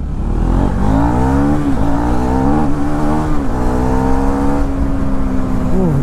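A 2024 Husqvarna Svartpilen 401 motorcycle engine revs hard and accelerates through traffic, a loud, close, continuous roar whose pitch climbs and dips with each gear change.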